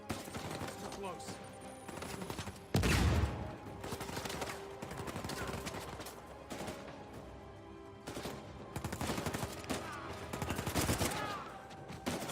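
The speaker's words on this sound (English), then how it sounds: "Does this gun always do 3-round burst?" Three-round burst rifle fire in Uncharted 4 crackles in repeated short volleys over game music, with a louder, heavier blast near the start and talking voices over much of it.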